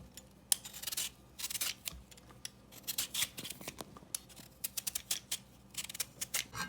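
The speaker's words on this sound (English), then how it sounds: "I'm gonna peel them." Orange sweet potatoes being peeled, giving quick, close, repeated scraping strokes in uneven bursts, faint overall, with no speech.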